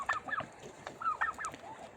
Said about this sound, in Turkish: Diğer hindiler de geldi çünkü.